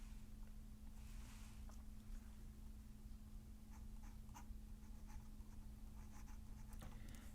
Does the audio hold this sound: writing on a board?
yes